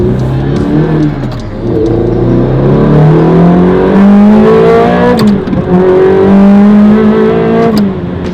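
A manual Ferrari Challenge Stradale engine revs hard while driving, loud and close, rising and falling through several gear pulls with sharp shifts between them.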